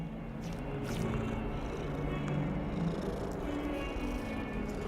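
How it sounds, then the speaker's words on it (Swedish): A cat purrs in Hogwarts Legacy, heard through the game controller as a low, continuous, faint rumbling drone that stays steady throughout, with no speech. "Man hör hur den spinner i handkontrollen."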